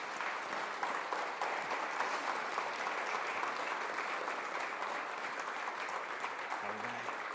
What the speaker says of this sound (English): I'm just going to ask all of you to give yourselves a robust round of applause,